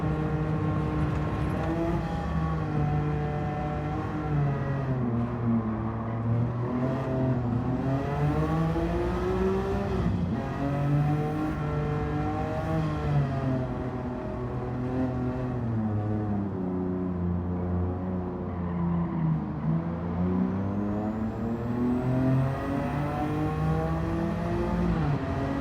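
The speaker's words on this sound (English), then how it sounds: "Blow-off valves, exhaust noises." A race car in Gran Turismo 7 roars continuously, its exhaust note climbing and falling through repeated gear changes and revs, loud and close for the whole stretch with no talk.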